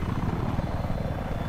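A Kasatka attack helicopter takes off in the Battlefield 4 video game, its rotor making a steady, loud, close thudding beat over a dense engine roar that fills the whole short stretch.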